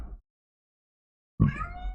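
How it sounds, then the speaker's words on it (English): A house cat gives a single short, close meow after a moment of silence, preceded by a faint trailing sound at the very start. "Cat being a goober."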